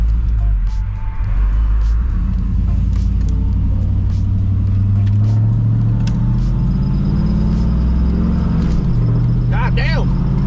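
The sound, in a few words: OBS truck driving at the speed limit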